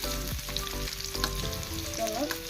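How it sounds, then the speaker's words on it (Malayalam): Sliced shallots crackle and hiss in coconut oil in a pan for a Kerala-style sardine curry tempering, a steady close sizzle with faint stirring scrapes over a low background hum. "ഒരു ചട്ടി വെച്ച് വെളിച്ചെണ്ണ ഒഴിച്ചു കൊടുത്തിട്ടുണ്ട് കേട്ടോ. ചുവന്നുള്ളി അരിഞ്ഞെടുത്തിട്ടുണ്ട് താളിക്കാനായിട്ട്."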